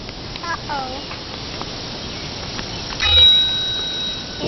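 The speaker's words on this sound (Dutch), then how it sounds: "Dat is de bel. Wat de bel doet." Bell on a child's bicycle rung a few times in short bright dings, with a brief ring near the end, while a parent talks to the child and other sounds of the outing run beneath.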